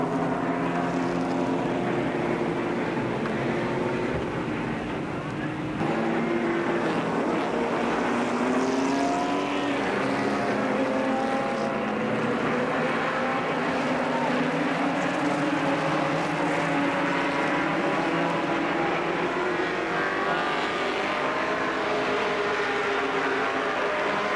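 Winged sprint cars racing at Columbus Motor Speedway, a steady loud roar of several engines blending into one continuous drone across the whole stretch, with layered whining pitches rising and falling as cars pass.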